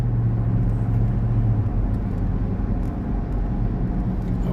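Road traffic passing by as a steady loud low rumble of cars, with a droning engine hum early on that fades, continuous and close, no talk.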